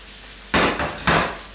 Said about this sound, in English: I'll do it over here and I'll tip it over